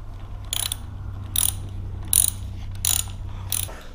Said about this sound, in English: So I'm gonna get this side with the socket wrench.